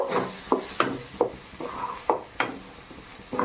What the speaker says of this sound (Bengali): এবার এটা একটু নেড়ে চেড়ে নেব।